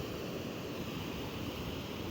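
Ocean surf at a beach on Simeulue, a steady broad wash of waves with wind noise, continuous and fairly faint with no distinct breaks, no voices.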